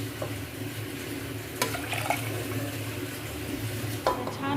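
A pot of masoor lentils in water bubbling and simmering steadily, a soft continuous burble with a few louder pops, close by with no voices.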